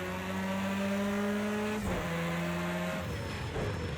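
An Audi S1 EKS RX rallycross car in Project Cars 2 at Bathurst, with a loud, steady engine drone that shifts pitch through downshifts and braking into corners, plus a brief tire squeal.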